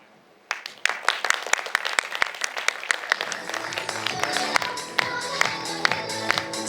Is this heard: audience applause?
yes